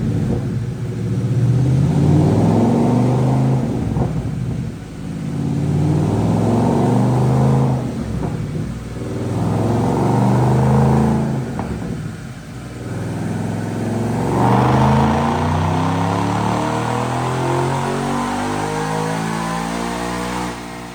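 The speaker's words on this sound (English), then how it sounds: "Check out this dyno pull." A supercharged 2014 Mustang GT with a Roush TVS 230 supercharger, stock manifolds and cats, runs on a dyno, its engine revving up repeatedly in loud rising pulls, each climbing in pitch before dropping back, with a long final sweep.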